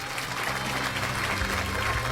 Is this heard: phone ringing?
no